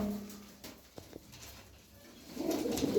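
Bango pigeons in a loft give soft, low cooing calls at the start and again near the end, close and gentle over light rustling and pattering.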